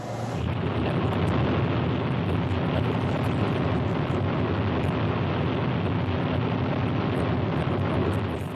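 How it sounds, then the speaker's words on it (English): A Thor ballistic missile launches, carrying a small-scale experimental glide vehicle model, heard as a loud, steady rocket roar that holds unbroken throughout without voices. "The small-scale models were launched on top of a Thor ballistic missile."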